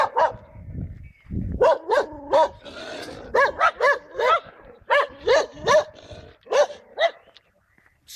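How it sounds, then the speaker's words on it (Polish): Dogs at a village roadside bark in repeated bursts, with several loud, close barks in quick succession, a few growls and whimpers between them, and no talk over them. "psy szukają, zawsze czekają te psy, jak idę."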